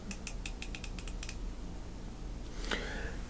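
Harbor Freight Quinn 90-tooth 3/8-inch drive ratchet clicking close up during a teardown, a quick train of about ten light metallic ticks followed by a single brief scrape, with no talking.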